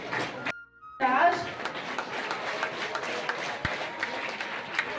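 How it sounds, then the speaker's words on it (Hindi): An audience at a school prize ceremony claps continuously after a brief pause, a dense, moderately loud patter of many hands, with voices audible in the crowd. "तालियां बजती रहनी चाहिए।"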